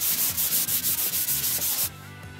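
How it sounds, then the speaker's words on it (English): A sanding block with 120 grit sandpaper rubbed over painted wood in quick, even back-and-forth strokes, loud and close, then stopping abruptly near the end. "it's literally just rubbing over just to take the top coat off, and it just makes it all nice and smooth."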